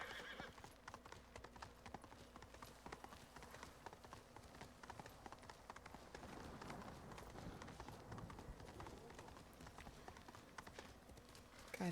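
Horse hooves gallop in a rapid, steady clip-clop rhythm in Ghost of Tsushima, with a whinny mixed in, all quite faint.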